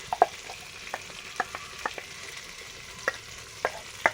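Chana dal paste frying in a pan for dhoka, stirred with a utensil, giving a soft steady sizzle under repeated light scraping taps at irregular intervals, with no talking.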